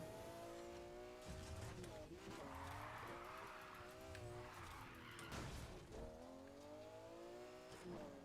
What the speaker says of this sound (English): This car is not made for drifting.